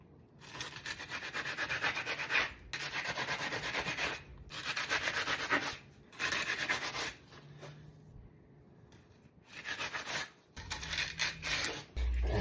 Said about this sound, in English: now I can scrape the stuff that stuck to the form off and put it back in the concrete.